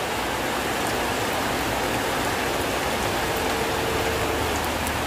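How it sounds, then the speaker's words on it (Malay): Steady rain falls in Cameron Highlands, a dense, even hiss of drops on surfaces that continues without pause, close and fairly loud, with no voices. "hujan di Cameron Highland."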